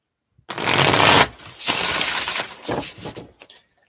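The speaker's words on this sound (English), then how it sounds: "Some of these cards shuffle so beautifully." A deck of tarot cards is shuffled up close in a few loud, crisp riffling bursts, each ending in short taps and rustles, with nothing else in the background.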